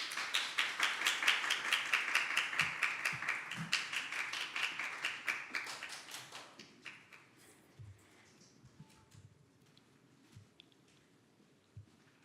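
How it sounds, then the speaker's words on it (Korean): An audience at a K-pop chart announcement event applauds with rhythmic clapping that begins strong and fades over several seconds, leaving a few scattered claps in a quiet hall. "뜨거운 박수 부탁드립니다."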